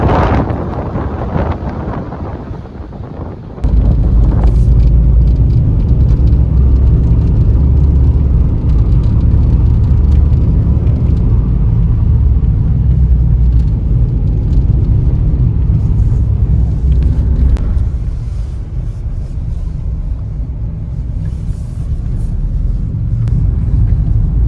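A car climbs a mountain road toward Mount Nemrut in Turkey, heard from inside as a steady low rumble of engine and road with wind buffeting the microphone, after a brief rougher, noisier start.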